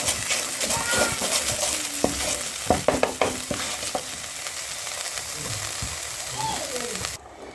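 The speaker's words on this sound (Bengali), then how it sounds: "আমার জিরে মরিচটা ভাজা হয়ে গেছে। আমি তরকারিটা আবার ঢেলে সাঁতাল দিয়ে দিলাম।" Curry for bata fish poured back into hot oil with fried cumin and chilli, giving a loud close sizzle with stirring scrapes and clatter that cuts off near the end.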